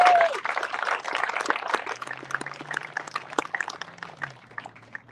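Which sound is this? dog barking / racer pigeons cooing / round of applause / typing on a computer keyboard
round of applause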